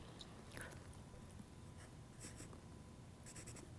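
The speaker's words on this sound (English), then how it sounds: "I want you to write at the bottom of your sketch" Pencil writing on paper for a sketch, faint scratchy strokes in short irregular bursts over a steady low room hum, close and quiet with no talk.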